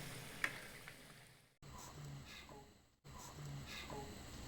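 Pieces of lemon mandazi dough frying in hot oil, a steady low sizzle running throughout at moderate level, broken by two short pauses.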